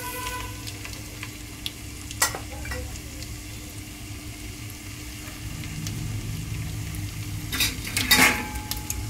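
Mustard seeds frying in oil give a continuous close sizzle and crackle, with a spoon scraping and stirring the pan and a couple of sharp metallic clinks, one near the end louder than the rest.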